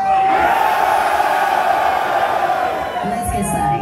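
Crowd at a live metal concert in a London club screaming and cheering loudly in a sustained roar, with whoops and yells rising out of the dense noise.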